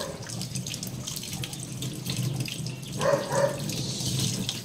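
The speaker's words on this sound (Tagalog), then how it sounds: "Padanan nyo lang ng tubig para wala yung mga residue." Tap water runs steadily from a faucet into a sink, rinsing residue from a float switch part during a home repair, a continuous close splashing hiss with a brief louder gush near the end and no talking.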